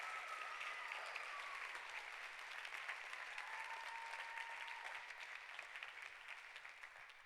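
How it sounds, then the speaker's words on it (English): Applause for GED graduates at a 2013 graduation ceremony, a sustained wash of crowd clapping that stays even throughout, heard from a distance and fairly faint. "So I want those people applauded for working really, really hard."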